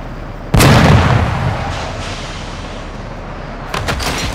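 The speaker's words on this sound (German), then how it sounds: "Gute Explosion." A sudden loud explosion from placed charges in the video game Call of Duty: Modern Warfare 2 bursts in, then a long rumbling decay fades down, followed by a few sharper crackling pops near the end.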